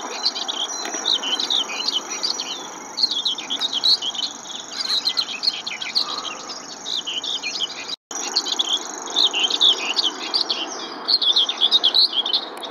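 Warblers (fauvettes) on migration at a bird-ringing site give dense, continuous high chirping and twittering calls throughout, mixed with a steady insect-like trill. There is a brief gap in the middle, and no voices are heard.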